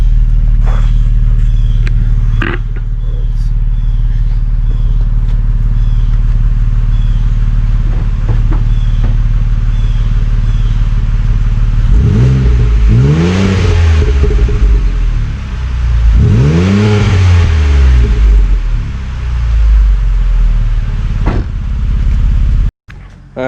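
A 2015 Ford Taurus SEL fitted with Magnaflow mufflers idles with a deep steady rumble, then is revved twice in two rising and falling blips before settling back to idle and cutting off.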